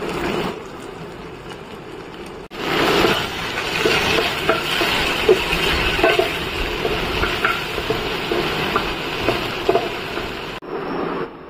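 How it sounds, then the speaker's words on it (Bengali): Okra pieces seasoned with salt and turmeric fry in a pan while a spatula stirs them, giving a continuous sizzle broken by scraping and light clinks of metal against the pan. "এবার একটু ওর জন্য ভেন্ডি ভাজা করব"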